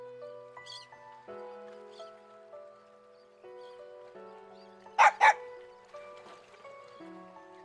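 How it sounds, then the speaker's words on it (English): A dog barking in the fighting game Persona 4 Arena Ultimax: two sharp, close barks in quick succession over soft tonal background music, with no speech during the clip. "A dog?"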